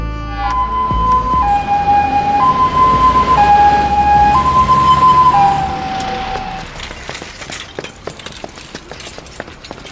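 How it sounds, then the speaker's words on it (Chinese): An ambulance siren wails nearby in a loud, alternating two-tone pattern for about six seconds. It then fades into scattered clicks and background noise. "叫救护车啊。"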